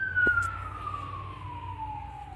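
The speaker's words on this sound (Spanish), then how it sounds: "Acabo de pasar una ambulancia." An ambulance siren passes outside a shop, a single long wailing tone that slowly drops in pitch as it moves away, heard faintly over low traffic rumble.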